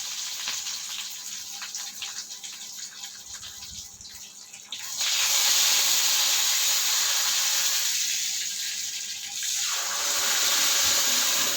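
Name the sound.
dried red chillies and curry leaves added to hot oil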